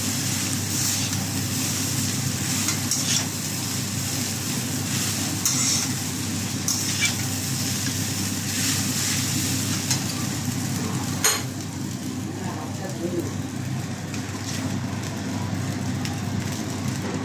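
Chowmein sizzles steadily in a hot frying pan as sauces are stirred in, with continuous frying hiss, a few scraping and clinking stir sounds, and a faint background hum.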